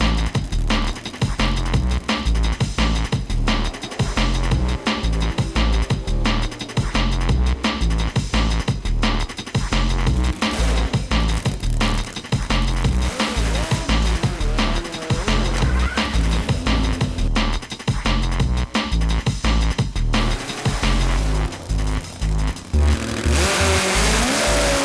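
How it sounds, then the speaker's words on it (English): A top fuel drag racing bike engine runs continuously at a drag strip, loud and close with a harsh, choppy idle that pulses and surges, alone without talk. "As you can hear, his bike's running."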